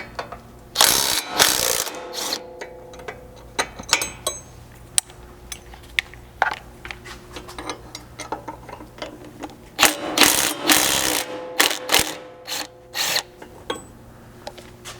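A ratchet wrench removes nuts from a Ford Bronco lower control arm, giving repeated quick bursts of close, sharp ratcheting clicks with brief pauses between them.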